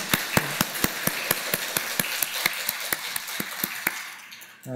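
A church congregation claps together in a Sunday service, sharp claps landing in a steady, even rhythm about four times a second, fairly close and alone, stopping abruptly near the end.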